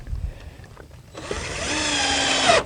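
A power drill drives screws into a metal joist hanger on a new deck build under a shed roof, starting with quiet fiddling and then a sustained high whine that runs loud and steady for over a second before stopping.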